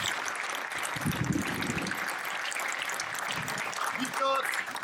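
Clapping from an audience thanking a crew at a boat event, moderately loud and continuous, mixed with background chatter and some watery noise.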